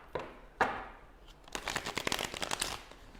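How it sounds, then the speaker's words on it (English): A deck of cards is shuffled close by: two sharp single snaps, then a quick riffling burst of rapid flutters lasting about a second before it settles. "we'll give these cards a little shuffle"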